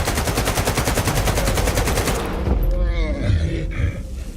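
Rapid automatic gunfire rattles loudly in the shooter game S.T.A.L.K.E.R. 2: Heart of Chornobyl, a dense burst that stops after about two seconds, followed by low thuds and someone talking.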